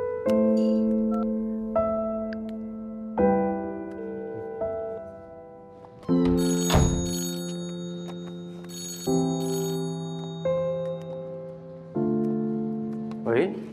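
A phone ringtone plays during a call in a Chinese drama scene: a melodic sequence of clear electronic tones repeats in steady phrases, loud and close, with a brief louder burst midway.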